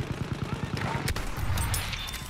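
Gunfire in the video game Battlefield 1, a quick rattling burst of rapid shots followed by a sharp crack, fairly quiet and brief.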